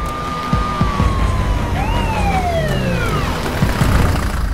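An ambulance siren wailing nearby in a street scene, a loud rising and falling electronic wail with a second siren tone overlapping, over rumbling traffic and scattered thumps, no talking.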